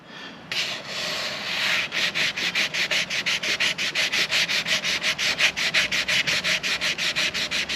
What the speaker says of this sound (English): Just want to sand until the guide coat is gone.